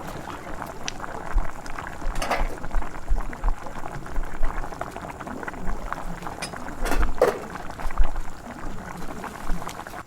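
Meat curry bubbling in a pot after hot water is poured in over the browned meat: a continuous moderate burbling boil with occasional louder pops and splashes, no voices.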